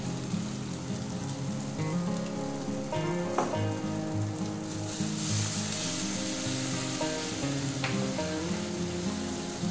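A banana flower curry sizzles and crackles steadily in a hot pan as water and cashew paste go in, with the bubbling frying hiss close and continuous and a few clinks of utensils.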